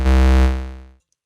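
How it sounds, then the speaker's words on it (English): A Pittsburgh Modular Lifeforms SV-1 Blackbox synthesizer plays a single steady square-wave note from its second oscillator, loud and buzzy, holding for about a second before fading out to silence. "listen to oscillator 2, the square wave"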